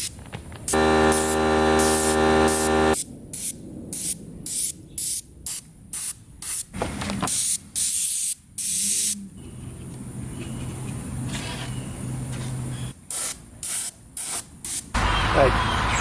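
Airbrush driven by a compressor sprays thinned gray paint onto DIY Halloween tombstones in short hissing bursts, some long and many quick, with a steady compressor hum underneath and brief pauses between passes.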